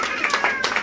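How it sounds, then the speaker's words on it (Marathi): Guests at a family haldi ceremony clapping, a short burst of a few distinct claps close by, mixed with voices and crowd noise. "अरे टाळ्या वाजवा यार"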